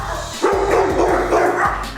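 A medium-sized puppy of about four months, adopted from a shelter, barks loudly and close in a quick series of short, sharp barks and yips.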